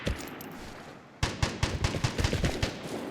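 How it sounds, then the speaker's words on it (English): A burst of video game gunfire, including an ES-16 rifle, erupts after a quiet stretch, rapid sharp shots popping in an uneven rhythm, fairly loud with no talking. "Those gunshots? The guy that just shot at me with the ES-16?"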